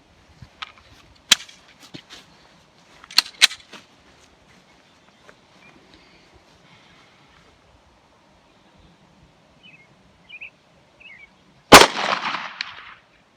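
Sharp 9mm pistol shots firing SIG 115 grain jacketed hollow point rounds, a few scattered cracks early and one loud report near the end, with faint quiet between.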